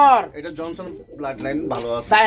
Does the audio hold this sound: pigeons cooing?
yes